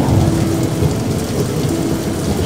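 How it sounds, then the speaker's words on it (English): A thunderstorm with driving rain, heard as a dense, loud and steady wash of rainfall with a low rumble beneath it and no break. "A crack of thunder and flash of lightning illuminated the sky"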